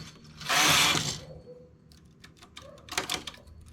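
Knitting machine carriage pulled across a row, a loud rasping mechanical sweep lasting about half a second, followed by quieter clicks and ratcheting of needles and a few sharp taps near the end.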